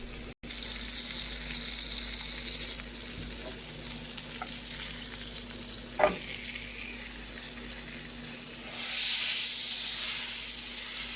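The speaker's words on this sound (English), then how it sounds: "I love the smell of frying sausage." Sausage patties sizzle in a frying pan with a steady, soft hiss throughout, a brief clink partway through, and the sizzle swelling louder near the end.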